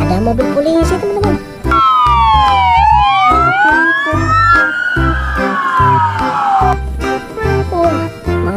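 A toy police car's electronic siren wails in loud rising and falling sweeps over a thumping, jingly toy tune, playing close up with brief pauses at the start and end.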